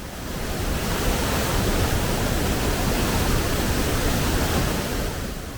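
A large spring near a Kurdish village in Iran, flowing at 3,000 to 4,000 liters per second, sends out a loud, continuous broadband rush of water with no breaks.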